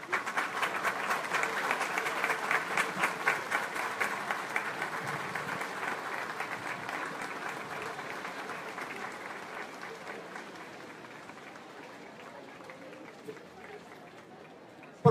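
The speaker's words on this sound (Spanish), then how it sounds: "Aplauso." A church congregation at a consecration ceremony applauds in a dense, sustained wave that slowly fades over about fifteen seconds, with a faint murmur of voices underneath.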